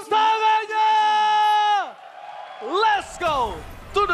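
A crowd at an esports arena cheers and roars during a Mobile Legends MPL Indonesia match, loud sustained shouting and whoops that swell and then break into rising yells, with a commentator's amplified voice over the top.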